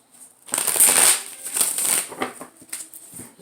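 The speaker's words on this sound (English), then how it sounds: "one more shuffle." Tarot deck being shuffled by hand, a close, crisp riffle of cards that flutters for a few seconds, loudest at the start and then tapering into lighter flicks.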